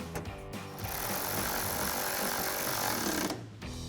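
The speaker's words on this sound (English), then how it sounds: "take our 10mm socket to tighten it down" A power driver fitted with a 10mm socket tightens a headlight bolt on a 2019-2024 RAM 1500. It runs as one loud, close, continuous burst of about three seconds, with short clicks at the start and end.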